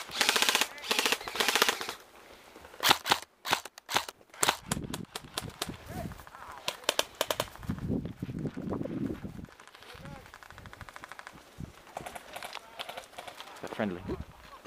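Airsoft guns fire in rapid bursts and single shots during an outdoor skirmish, loud and close, with players shouting and talking between and over the volleys.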